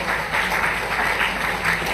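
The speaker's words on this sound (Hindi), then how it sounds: "जोरदार तालियों से अभिनंदन।" Loud, continuous applause from a crowd at a public ceremony in Hindaun City marking Birsa Munda's birth anniversary, a thick, steady roar of many hands clapping close by throughout.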